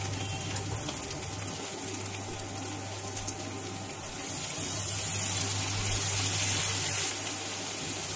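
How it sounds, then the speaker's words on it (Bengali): Water is poured into a pan of Bengali egg curry being cooked down, a steady soft pouring and sizzling hiss running for several seconds under a low background hum. "সামান্য জল দিয়ে আবার কষিয়ে নিচ্ছি।"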